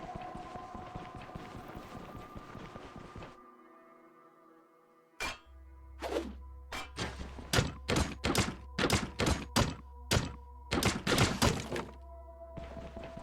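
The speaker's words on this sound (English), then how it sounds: "Figure I'd take my weapon off and just break some stuff real quick." Bare fists smash breakable objects in the video game Stoneshard: about a dozen sharp, loud thuds and cracks in an uneven rhythm over a low hum, following a stretch of background music and a brief silence.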